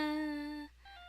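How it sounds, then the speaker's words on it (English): A creepy cell phone ringtone from the Phoenix Wright video game, a bright electronic melody that stops partway through, followed by a fainter tone. "All of a sudden, the phone began to ring."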